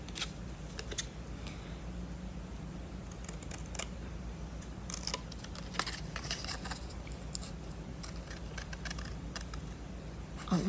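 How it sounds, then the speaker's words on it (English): Scissors cut out a paper shape along drawn lines, giving a run of soft, close snips and rustles over a steady low hum, irregular and fairly quiet throughout. "And now I'm going to cut this one out."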